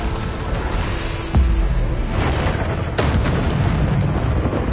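Bombarda blasting spell exploding in Hogwarts Legacy, heard as loud booming bursts, one sharp hit followed by another a couple of seconds later, over a constant roaring background of game effects.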